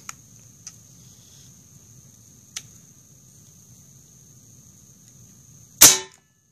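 A single sharp report from a Benjamin Disco .22 air rifle fired over a chronograph. The crack comes at the end after near silence, preceded by a few faint ticks over a steady high electronic whine.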